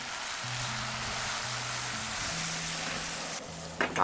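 Soy sauce hitting a hot stir-fry of shredded pork and pickled mustard, a steady bright sizzle that carries on, with brief clanks of a utensil at the end.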